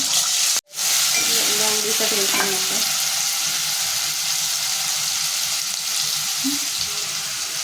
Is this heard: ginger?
yes